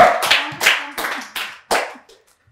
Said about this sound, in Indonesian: tepuk tangan buat Abed